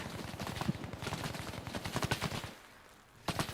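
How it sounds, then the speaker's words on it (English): Rapid gunfire in a military tactical video game during a training session with an ambush, dense bursts of shots close together, then a short lull before a final pair of shots, with no talk. "I don't know who was shooting there."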